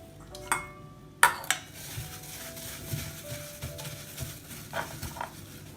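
Raw pork gets mixed by hand with marinade in a bowl, giving soft wet squelches, light clinks and a few sharper knocks against the dish, quiet and close with no talking.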